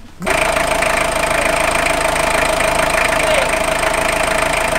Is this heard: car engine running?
yes